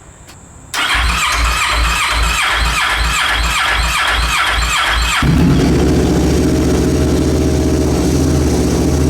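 A rebuilt Kawasaki Ninja 650R motorcycle engine cranks with a rhythmic starter whir, then catches and settles into a loud, steady, rumbling idle close by.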